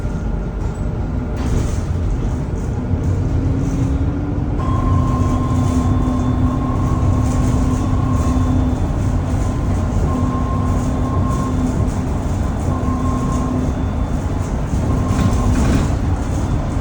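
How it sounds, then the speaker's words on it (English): Loud, continuous rumbling of rail transport heard from inside a moving shuttle bus between two airports, with steady wheel and engine noise and a drawn-out tonal whine rising and fading throughout. "Train over there. This also goes between the 2 airports actually."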